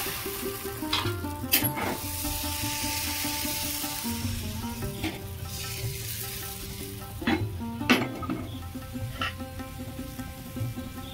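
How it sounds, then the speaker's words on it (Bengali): Steady, loud sizzling of pua pitha batter frying in a hot wok, with occasional clinks and scrapes of a utensil against metal. "কড়াটা আমি ভালো করে গরম করে নিয়েছি। এবার আমি 1 হাতা ব্যাটার দেব।"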